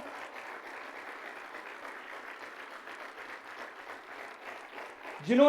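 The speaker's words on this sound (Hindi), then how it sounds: "जोरदार तालियां इस योद्धा के लिए" At a Valor Day ceremony honouring a retired army havildar, a crowd keeps up sustained, fairly distant applause at an even level, and a voice cuts in at the very end.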